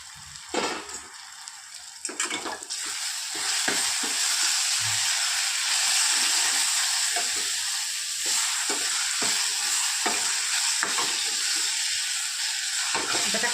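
Food sautés in a hot pan while preparing a spicy sev tomato curry, with a steady hissing sizzle close by and occasional clatters and scrapes of stirring at the start, then an unbroken fry.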